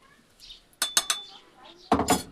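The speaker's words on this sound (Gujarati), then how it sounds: "તો હવે આ કેરીને આપણે એકવાર સારી રીતે હલાવી લેવી." Boiled raw mango is stirred in a metal pot, giving sharp clinks and scrapes of a spoon against the pot in short bursts, close by, with a quieter pause between them.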